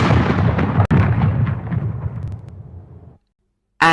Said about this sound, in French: Un soldat tire un coup de canot.